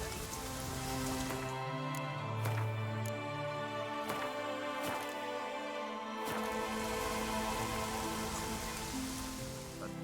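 Heavy rain pours in The Witcher 3, a dense steady hiss of drops on surfaces that stays constant throughout, with a few sharp knocks and faint tonal background music.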